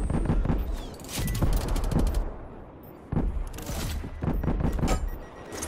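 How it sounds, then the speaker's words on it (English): Hand cannon gunfire in a military shooter video game, loud bursts of rapid shots in several clusters with short pauses between them. "Assaulting with hand cannon."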